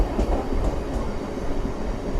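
A MEMU express train rumbles into a three-platform station at Venkatagiri and reaches platform 2, giving a steady, loud roar of wheels and carriages with faint clatter and no voices.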